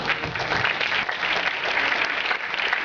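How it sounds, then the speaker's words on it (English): Audience applause for a guest at a young authors contest event, a steady, dense wash of clapping from a large crowd, loud and sustained with no voices on top. "Please give him a big round of applause."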